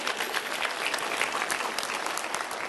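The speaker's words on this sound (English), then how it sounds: "Let's give her a round of applause." A crowd claps steadily for a participant in a judged group event, a dense, even patter of many hands kept up at the same level throughout.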